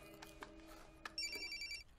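A mobile phone rings in a drama scene. A short, electronic, warbling ringtone begins about halfway through, clear and close, after a quieter stretch of room noise.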